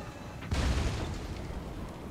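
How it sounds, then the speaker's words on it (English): A single muffled explosion booms from a Total War: Warhammer 2 battle, with a sudden low thump that fades into a rumbling tail. "But this explosion did surprisingly less than expected"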